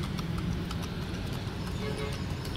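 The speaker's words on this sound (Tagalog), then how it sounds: "Alam na ng kabayo kung saan siya pupunta" A kalesa horse's hooves clip-clop in a steady rhythm along a road in Luneta, Manila, mixed into a constant rumble of nearby traffic.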